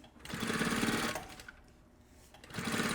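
A sewing machine runs a straight seam along a backpack strap in two close bursts of rapid, even stitching, with a brief quieter pause between them.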